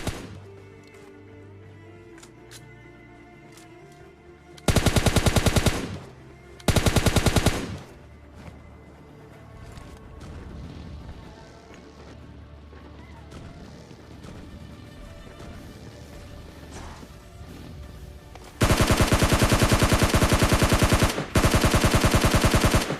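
Loud bursts of rapid automatic gunfire, a few short volleys early and a long sustained barrage near the end, over a steady game soundscape.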